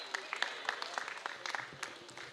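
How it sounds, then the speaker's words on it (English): Scattered audience applause for young performers at a Crucian Christmas Festival cultural night on a village stage, a mix of sharp individual claps under crowd murmur and voices. "Let's give them a round of applause."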